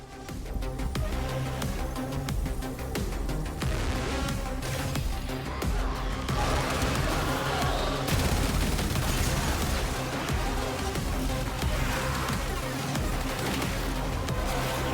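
Rifle fire in the video game Warframe, dense rapid shots and bursts layered with explosions and game effects, loud and continuous throughout.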